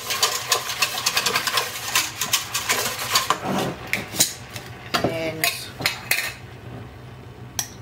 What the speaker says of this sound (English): So whisk that in.